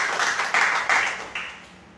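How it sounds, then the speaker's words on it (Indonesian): Church congregation clapping in a burst of applause during a sermon, several rhythmic swells of many hands, fairly close and fading toward the end. "Tepuk tangan yang meriah buat Tuhan Yesus."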